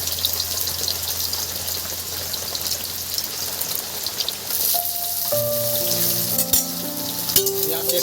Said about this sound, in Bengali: এবার দেখুন এই তেলের মধ্যে দিয়ে দেবো এই যে কাঁচা এই যে পেঁয়াজ কেটে রাখা